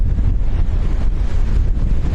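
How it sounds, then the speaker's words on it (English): Strong wind buffets the microphone at a beach in Lanzarote, a dense, loud, continuous low roar with steady gusting and no pauses throughout. "Just a shame it's so windy."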